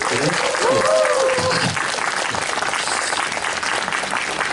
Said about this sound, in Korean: 여러분 정말 따뜻한 박수로 모셔주십시오